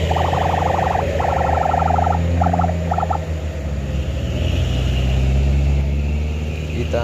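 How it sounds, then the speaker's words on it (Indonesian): Loaded trucks in a convoy climbing a steep hill at Batu Jomba near Sipirok, deep continuous engine rumble with repeated horn-like tonal blasts in the first few seconds, loud and close. "Kita lihat di sini ada rombongan dari truk loading yang datang dari Toba ataupun dari arah Medan menuju arah Sipirok."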